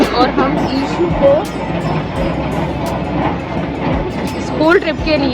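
Train noise on a platform at New Delhi railway station in the early morning: a steady rumble of rolling rail cars with rattling clatter and faint squeals, continuous throughout and mixed with crowd chatter and voices.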